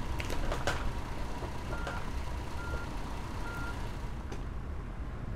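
A coach in the video game Fernbus Simulator reverses, its backup alarm beeping in a steady, evenly spaced rhythm over a constant low engine rumble.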